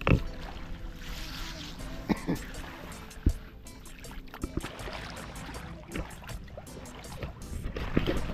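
Small bangka boat moving across the water near Claveria, a steady low rumble and rushing water wash under intermittent voices, with scattered knocks and splashes against the hull.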